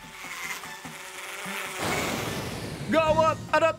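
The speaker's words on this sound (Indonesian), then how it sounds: "Gawat, ada tawon." A wasp buzzing in a children's cartoon, a thin steady drone heard behind music and effects, followed by short rising tones near the end.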